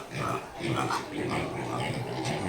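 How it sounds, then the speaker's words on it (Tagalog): Newly weaned piglets in a nursery pen grunt and squeal softly nearby while someone talks over them. "dito po nilalagay yung mga biik na mga bagong walay."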